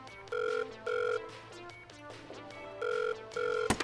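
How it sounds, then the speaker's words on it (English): A telephone rings in an operating theatre in the Surgeon Simulator brain transplant game, two bursts of steady electronic trills, then a pause and two more, fairly quiet over a low background hum. "Oh, it's ringing."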